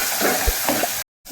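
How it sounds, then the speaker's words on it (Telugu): Ginger garlic paste being stirred into onions frying in a pan for a river pomfret fish curry, a steady close sizzle with soft scraping that cuts out abruptly near the end. "ఇదిగోండి కలుపుకుంటున్నాను."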